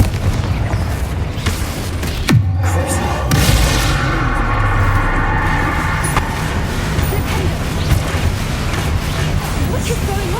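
A Confringo spell explosion in the wizarding game Hogwarts Legacy, with loud booming blasts and crackling magical combat effects in a busy, sustained battle soundscape.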